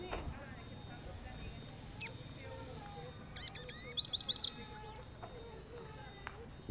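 A caged coleiro (papa-capim) songbird gives a few short, bright chirps, then a quick run of high whistled notes ending in a rapid burst, heard up close over faint background noise.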